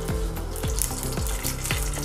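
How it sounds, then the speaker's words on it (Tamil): Steady sizzling and crackling of mustard seeds spluttering in hot oil, with a few sharp pops and splutters, close up and continuous with no talking. "கடுகு புரிஞ்சிடுச்சுங்க."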